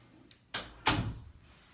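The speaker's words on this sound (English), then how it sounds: "We're gonna shut the door." An office door is pushed closed nearby: a light scrape, then a firm thud of the door latching, heard alone in a quiet room.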